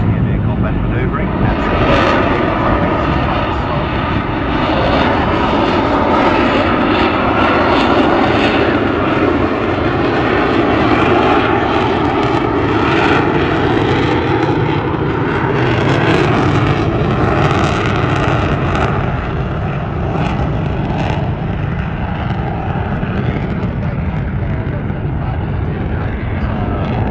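An aircraft flying low at the Newcastle Air Show gives a loud, continuous engine roar that builds and holds throughout, with an announcer talking over it.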